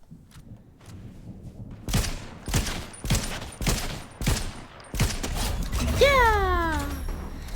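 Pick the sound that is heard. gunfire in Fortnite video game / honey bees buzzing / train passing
gunfire in Fortnite video game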